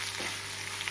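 Vallarai greens fry in a pan with a dense, continuous sizzle and faint stirring scrapes, close and even in level, with no voices.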